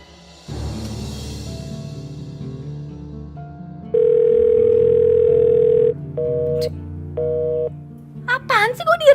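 Telephone dial tone while placing a call: a steady tone of about two seconds, then shorter tone bursts, over background music, with rising chirpy sounds at the end.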